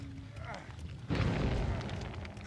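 A generator explodes in the game Dead by Daylight with a sudden loud boom partway through, following quieter in-game ambience, while a voice talks over it.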